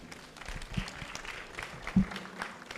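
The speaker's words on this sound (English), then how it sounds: "Clap for the entire group." An audience at an afternoon group discussion claps in scattered, fairly quiet applause, with individual hand claps standing out over a soft background.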